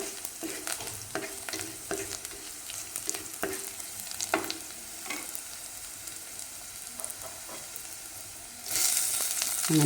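Chopped tomato and green chillies sauté in a pan, a continuous sizzle broken by rhythmic spatula scrapes and taps, ending in a sudden louder burst of frying hiss.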